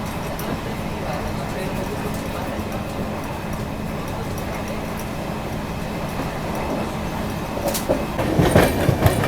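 Poorva Superfast Express running on the rails near Kanpur main line, a steady moderate rumble of carriages with faint clickety-clack, swelling louder near the end, with someone talking over it.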